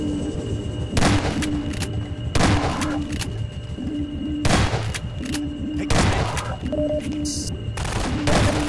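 Repeated bursts of automatic gunfire from the Half-Life 2 video game, several loud volleys spaced about a second apart, with brief quieter gaps, a low electronic hum and tonal game sounds between them.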